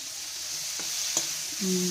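Vegetable pieces frying in a pan with turmeric and salt give off a soft, steady hiss, broken by a couple of faint taps of a spoon.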